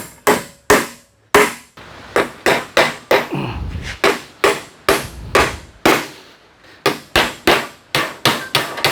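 Nails are hammered into wooden bracing on a chicken coop with about two dozen sharp, close, ringing blows in an uneven rhythm, with a brief scraping pause partway through.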